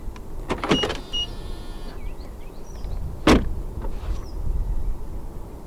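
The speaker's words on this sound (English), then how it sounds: "The windows dip down a little bit as you open the doors to clear the door frame." A 2023 BMW iX door clicks open with a short whir as the frameless window dips to clear the door frame, then a second latch click and brief motor whine follow.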